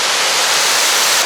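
Roaring waterfalls at a trailside viewpoint in Yoho National Park, one just behind and another nearby, give a steady, dense, loud rush of falling water that stays constant without a break.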